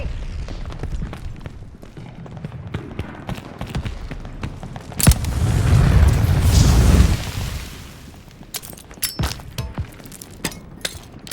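A cannon set on fire in Call of Duty Vanguard at the Battle of Midway, a sudden heavy boom followed by a roaring, crackling blaze for a couple of seconds, amid scattered clinks and game battle noise.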